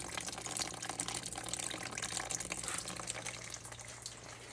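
Dirty coolant draining out of a Subaru radiator during a flush, a steady rushing, splashing stream of liquid heard close and continuous.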